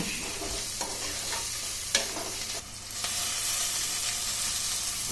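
Onions with turmeric and salt fry in a pan, giving a steady moderate sizzle broken by a few scraping stirs of a spoon, no voices.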